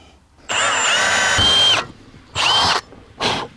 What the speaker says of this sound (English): So hopefully I can drill all the way through there